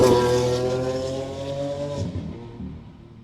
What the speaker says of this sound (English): nothing else sounds like a Ferrari.